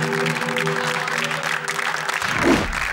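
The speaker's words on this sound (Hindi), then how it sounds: "बजाओ ताली।" A crowd claps at a political campaign speech in a Hindi comedy film, with a low hum beneath that cuts out near the end as the dense applause carries on, fairly loud and close.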